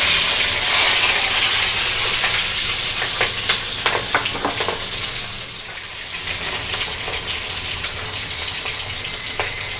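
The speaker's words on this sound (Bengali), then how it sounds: "তেল গরম হয়ে গেছে, আমি এখন ডিমগুলো দিয়ে দেব" Eggs are frying in hot oil for an egg korma made with coconut milk, giving a loud, dense, continuous sizzle with crackling pops. Occasional stirring scrapes come through close up.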